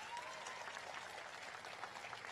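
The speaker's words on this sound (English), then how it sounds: "How about another round of applause for them, please?" An audience at a school opening event applauds a student performance, steady dense clapping throughout at an even level.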